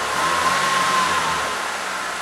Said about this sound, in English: Give your engine few revs.